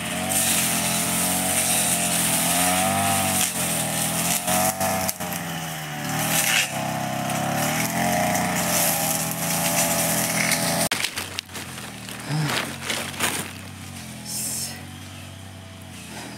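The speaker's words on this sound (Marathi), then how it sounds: "थोडे कटर मारतो." A brush cutter engine drones loud and close, clearing overgrown grass on a cashew farm, its pitch rising and falling as it bites into the growth. The engine cuts out briefly near the end before revving again.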